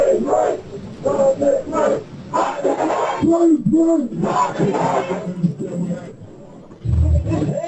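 A protest crowd outdoors chants and shouts in loud, rhythmic bursts. Voices rise and fall in unison over a continuous roar of babble, with a heavy thump near the end.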